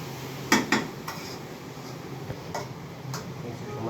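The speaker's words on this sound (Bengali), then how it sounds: "আমরা নাড়িয়ে মশলাটা সুন্দর করে মাখিয়ে নেব।" Spices are stirred into food in a pot, a metal spoon knocking and scraping against the sides in a few sharp clinks and taps over a quiet background.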